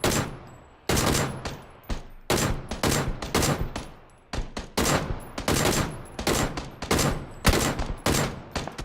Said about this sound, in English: So Ducky starts taking suppressed shots.